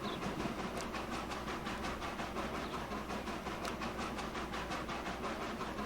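Train in Transport Fever 2 slowly hauling cars up a grade at about 13 mph, a steady close rumble with a regular clickety-clack of wheels over rail joints running throughout, no voices.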